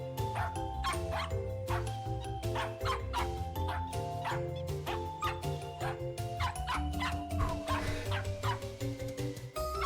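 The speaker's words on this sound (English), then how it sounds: "Is this just going to be dog barking for 30 minutes?" Several dogs bark over and over in a video game, in quick repeated bursts that stay fairly quiet beneath an ongoing musical backdrop.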